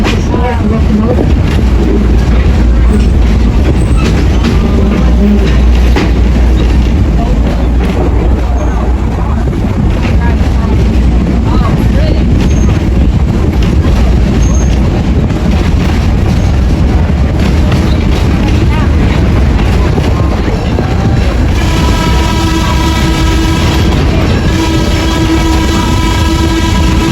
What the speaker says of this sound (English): Sit back and enjoy the sounds that come from the historic locomotive.